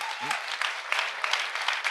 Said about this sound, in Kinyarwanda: Makofi kwa Bwana, makofi kwa Bwana.